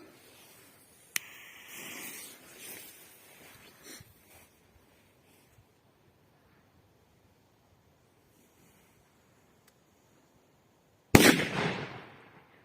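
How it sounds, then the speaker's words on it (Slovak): Outdoors with steady wind noise, a Dum Bum Middle firecracker goes off in a loud, sharp blast near the end. Its crackling echo trails away. A faint crack and some rustling come earlier, and no one speaks. "Predposlednú petardu tu máme Dum Bum Middle."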